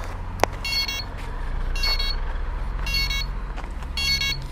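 A DJI Inspire 1 drone beeps continuously: short electronic beeps repeat in bursts about once a second over a steady low hum, with a sharp click near the start.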